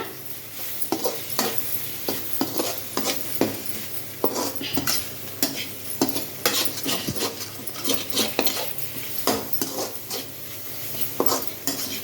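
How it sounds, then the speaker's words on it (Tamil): Eggs and vegetables sauté in a pan while a metal spatula stirs and scrapes, giving repeated clanks and scrapes over a low background sizzle, close and fairly loud. "காயை கொஞ்சம் ஓரமாக இது பண்ணிவிட்டு முட்டையை கொஞ்சம் வதங்கட்டும். எல்லாம் மிக்ஸ் பண்ணிவிடுங்க"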